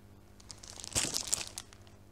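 A small paper envelope is handled up close, a quiet burst of crinkling and rustling that peaks briefly in the middle, then trails off.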